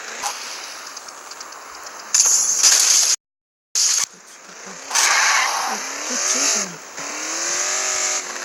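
A car in the mobile game Gangstar Vegas 4 drives and revs, its engine climbing in repeated rising sweeps, with bursts of louder acceleration, a brief dropout to silence, and game mechanism noises throughout.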